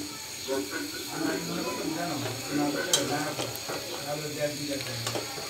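Lengcha sweets made from split-milk chhena, poured all at once into boiling sugar syrup, giving a steady close bubbling sizzle with light clinks of utensils, while someone speaks over it.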